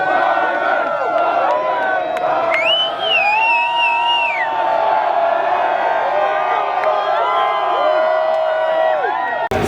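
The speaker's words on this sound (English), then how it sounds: "Let's give the mayor a round of applause." A large crowd at the LA Chargers Draft Fest cheers and whoops for the mayor in a steady, loud roar, with shrill whistles and shouts rising above it for nearly ten seconds.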